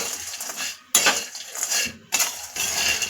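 Maggi noodles with masala and salt being stirred, giving three short bursts of metal utensil scraping and clinking against a pan separated by brief silences.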